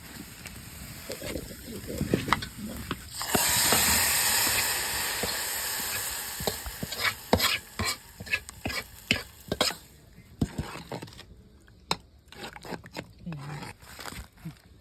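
Chopped garlic and onion paste go into a pot of cooking black gram dal, bringing a surge of steamy hiss followed by sharp clatters and stirring knocks against the pot.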